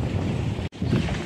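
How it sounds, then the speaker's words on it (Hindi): Strong wind buffeting a microphone outdoors in Vrindavan, a loud continuous roaring rumble with a brief dropout midway, without speech. "यहाँ पे बहुत तेज हवा चल रहा है"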